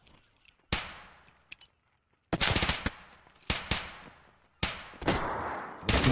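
Automatic gunfire from the competitive shooter The Finals as a full magazine is sprayed, arriving as several loud, sharp bursts separated by short gaps, each tailing off quickly.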